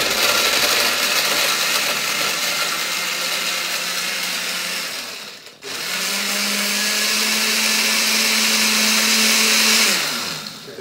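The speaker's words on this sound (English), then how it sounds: "we just add a whole bunch of ice" A kitchen blender crushes a batch of ice, a loud steady grinding roar that runs about five seconds, cuts out briefly, then restarts with a steadier whir before winding down; no talking.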